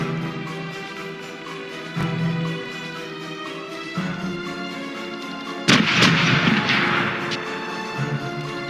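Ship cannon fire in the Corsairs Legacy pirate video game: a steady rumbling broadside bed with sharp blasts near 2 s and 4 s, then a louder crashing volley around 5.7 s that lingers, no voices.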